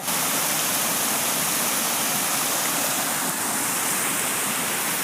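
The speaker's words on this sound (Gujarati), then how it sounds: "આ જગ્યાએથી પાણી પડે છે." Water pours down steadily at an ashram waterfall, a dense, unbroken roar that stays loud and close throughout, with no voices audible.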